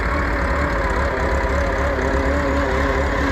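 A revived Massey Ferguson skid steer's engine runs steadily nearby, a loud, constant low rumble with no talking over it.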